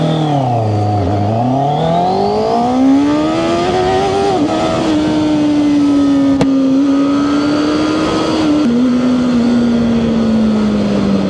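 A QJMOTOR SRK600RS motorcycle engine accelerating hard, a loud, close, continuous drone that dips in pitch, then climbs and holds steady, with small shifts as it pulls.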